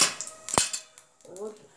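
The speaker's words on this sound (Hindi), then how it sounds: "गरम होने के बाद हम इसमें थोड़ा जीरा, थोड़ी सी राई" Cumin and mustard seeds pop and crackle in hot oil for a garlic chutney, a quick run of sharp close snaps, with a brief voice murmuring near the end.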